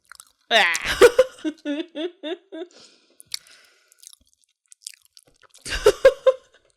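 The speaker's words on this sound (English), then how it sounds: "Pause for the chewing." Someone chews a cookie up close, with crunchy bites in a quick run, then a pause and another brief crunching burst; faint sounds fill the gap, with no clear talking.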